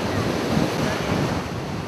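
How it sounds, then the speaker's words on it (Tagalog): Strong sea waves surge in a constant loud roar, with wind buffeting the microphone near the shore where a large boat waits in shallow water. "Lumakas ang alon sa dagat."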